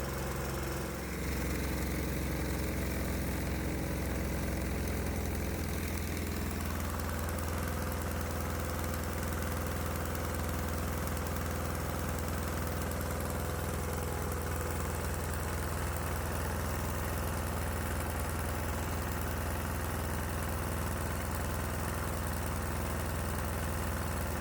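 A diesel engine runs on a 60 to 70 percent vegetable oil mix after starting, its loud, close idle settling into a steady, even low rumble with a light knock and no voices.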